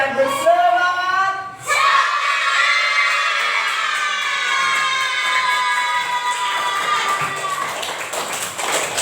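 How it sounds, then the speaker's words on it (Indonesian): Classroom children shout together enthusiastically in one long, loud, sustained chorus of young voices, briefly broken near the start. "Dengan teriakan yang sangat semangat"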